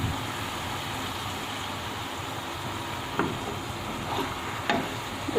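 Garlic ginger paste frying in a pan for potato chicken curry: a steady, fairly loud hiss of sizzling oil throughout, with a few faint clicks and stirring knocks toward the end.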